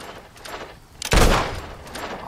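A single loud, sharp gunshot cracks out about halfway through, then decays into a lingering boom over quiet background ambience, in a shooting contest in the video game Fable 2.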